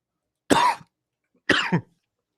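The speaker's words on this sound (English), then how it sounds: "I had a cough there." Two short, sharp human coughs, close and isolated, separated by about a second of silence, the second one breaking into a double burst.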